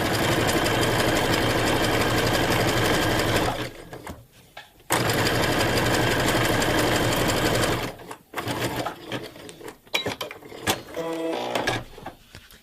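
A sewing machine runs a longer zigzag stitch in steady mechanical whirring bursts, the first about three and a half seconds and the second about three, close and loud, followed by quieter handling clicks and rustles.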